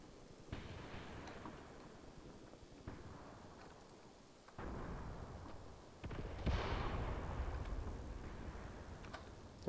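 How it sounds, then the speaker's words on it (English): In a Graviteam Tactics battle, mortars fire as dull booms, distant and moderately quiet, each followed by rumbling reverberation. Several thumps are spaced out over a constant low battlefield rumble, with a stronger burst toward the end. "We have mortars firing over here."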